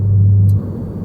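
A car engine rumbles steadily and low from inside the moving vehicle as it cruises along a road, with a brief steady hum that fades out partway through.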